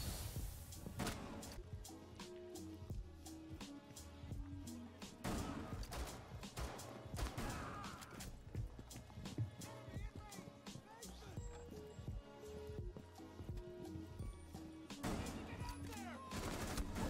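Loud, dense automatic rifle fire in Rainbow Six Siege, heavy-recoil bursts repeating throughout with sharp cracks layered over game sounds and background talk.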